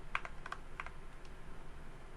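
A computer keyboard's arrow keys are tapped to steer a claw machine in an arcade game, giving a few quiet quick clicks in short clusters early on, then a single faint tap against low room noise.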